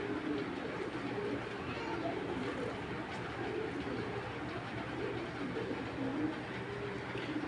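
Pigeons coo in a club loft of foreign-bred birds, a soft low warbling that sits within a steady, dense background murmur throughout.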